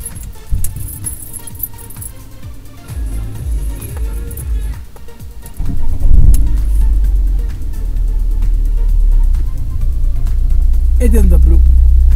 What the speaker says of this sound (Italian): Proviamo adesso a accendere la macchina.